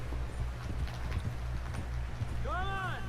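Horse hooves in the video game Red Dead Redemption 2: a steady clip-clop of riding hooves under game speech and background noise, with a horse whinny near the end.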